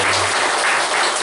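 A church congregation claps in a loud, continuous burst of applause, close and dense, with no speech over it.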